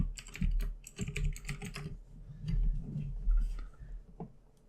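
Fingers type on a computer keyboard in quick irregular clusters of clicks and taps, close and clear with brief pauses between bursts.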